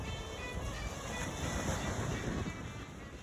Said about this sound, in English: to stand on the shores of the Gaspe Coast today, watching the waves roll in